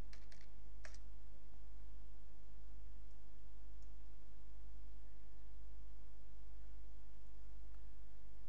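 A computer keyboard being typed on to enter a root password, a few quick clustered key clicks near the start and a couple of faint taps later, over a steady low electrical hum in a quiet room.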